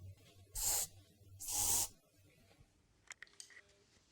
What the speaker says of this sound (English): We have to use the furniture polish, and you spray on the cleaning cloth in 8 inches from your face.